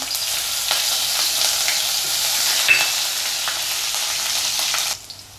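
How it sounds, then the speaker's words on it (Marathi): Cumin seeds and green chillies fry in hot oil on a low flame with a loud, continuous crackling sizzle that cuts off abruptly near the end. "जिरा आणि मिरची आता ही व्यवस्थित भाजली गेली आहे"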